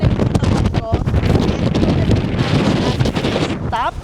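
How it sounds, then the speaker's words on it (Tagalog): Strong gusting wind at Pali Lookout on Oahu, Hawaii, on a rainy day, roaring and buffeting loudly and close throughout, with brief voices cutting through. "Sobrang lakas ng hangin."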